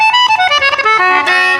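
Dry concertina played close and loud through a pedal board with no effects engaged, a quick run of bright reedy notes stepping downward and then holding a final tone.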